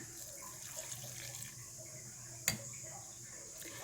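Water runs into a grinder jar already holding garlic, green chili and small onions, a steady splashing hiss with one sharp click midway.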